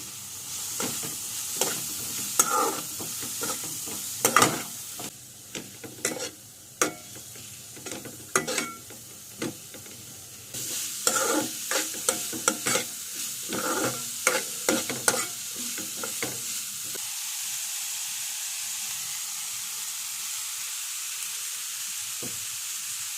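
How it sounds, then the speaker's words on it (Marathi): Onion, capsicum and tomato gravy roasting in a pan for pav bhaji, with a bright continuous sizzle and busy, rapid spatula scraping and clacking up close. Stirring stops near the end and only the hiss of frying remains. "कांदा शिमला मिरची आणि टमाटरची गिरवी मी पण त्याच्यात टाकून त्यांना पण भाजून घ्यायची"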